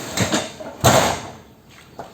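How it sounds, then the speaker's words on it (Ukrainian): A wooden plank is wedged against a car door to prop it open, giving a few soft scrapes followed by a sharper close wooden knock and a light clunk. "планкою підпираю двері"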